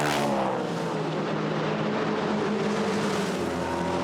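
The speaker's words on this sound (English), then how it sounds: "The Maserati just makes a glorious noise, but the Chevrolet growling along behind." Maserati and Chevrolet GT4 race cars roar past at Monza during a GT4 European Series race, a sustained distant engine drone with a falling pitch at first, then a steady growl.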